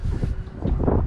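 Strong wind buffeting the microphone at an island shore on Catalina Island, a loud low roaring rush that surges briefly.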